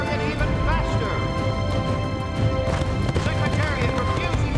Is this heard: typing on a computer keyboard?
no